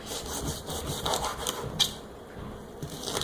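A sharp kitchen knife slices a fresh pineapple into strips on a cutting board, giving a soft, repeated crunchy sawing close up, with one louder cut near the middle.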